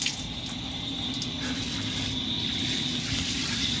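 Water runs steadily from an outdoor gas-heated shower, a soft continuous hiss and splash at moderate distance, unbroken for a few seconds with no talking.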